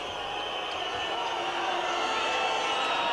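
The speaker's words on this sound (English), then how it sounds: "Again, the ear-piercing whistle from the crowd." Spectators at a Serbia vs USA under-19 basketball game let out an ear-piercing whistle, a steady shrill tone held for several seconds over a constant murmur of crowd noise in an indoor arena.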